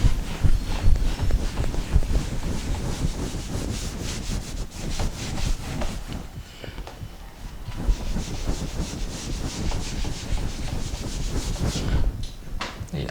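Steady, continuous rubbing of an eraser or cloth across a classroom board, a coarse scraping texture that runs for over ten seconds with slight dips midway, close and fairly loud with no talk over it.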